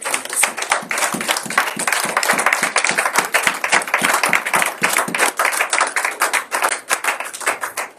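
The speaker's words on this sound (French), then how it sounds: "Est-ce qu'on peut acclamer le Seigneur?" A church congregation claps steadily and rhythmically in praise during a Sunday service, the loud, dense applause continuing alone with no talking over it.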